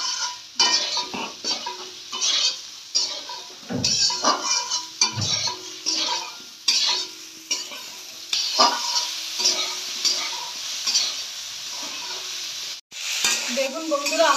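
Cauliflower fries with turmeric and salt in oil left over from frying fish, crackling and sizzling in a pan. Repeated scrapes and clinks of a stirring utensil come in irregular bursts, with no talking.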